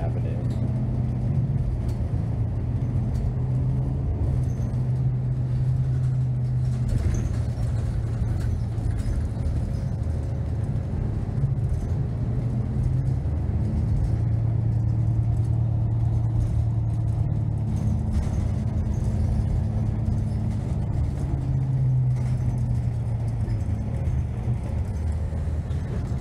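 A WMATA New Flyer Xcelsior XDE40 hybrid bus, number 7253, rides Route Q4 along Georgia Avenue, with a steady low engine and road rumble heard from inside throughout and occasional voices in the cabin.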